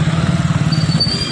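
A motorbike passes close by on a busy market street, a loud pulsing engine putter that rises and fades over about a second and a half.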